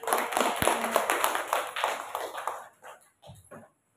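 A small group at a primary school teacher session claps, scattered and fairly close, the sound thinning into a few sparse final claps before fading out.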